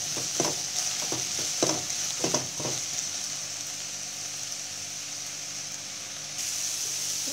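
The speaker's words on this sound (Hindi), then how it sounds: "सेव गलने तक हमें इसको फ्राई करना है।" Apple pieces frying in ghee give a steady hiss, with a few sharp clinks and scrapes of a spoon stirring the pan early on and no voices.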